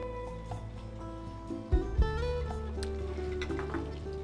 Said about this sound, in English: while this first side is browning